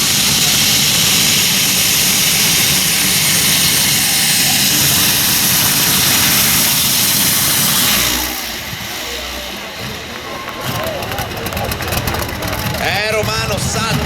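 A competition pulling tractor fitted with aircraft turbine engines roars at a tractor pulling event in Fiume Veneto, a loud, sustained jet-like howl that dips after about eight seconds, then surges again with a crackling, whining rise as an announcer talks over it.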